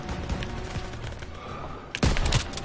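Gunfire in Call of Duty WWII on a WWII battlefield, a continuous distant crackle of shots under battle noise, then a louder close burst near the end.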